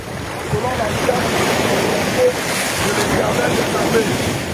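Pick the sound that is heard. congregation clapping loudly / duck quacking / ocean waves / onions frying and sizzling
ocean waves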